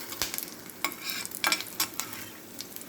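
Green chillies and crushed garlic fry in a pan for murunga keerai rice, with scattered spatula stirs and scrapes over a quiet, intermittent sizzle, no voices.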